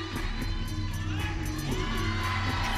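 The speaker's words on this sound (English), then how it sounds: "Teammates chanting OSU." Gymnastics teammates chant and cheer at a meet, a steady loud crowd roar with rhythmic shouted bursts throughout.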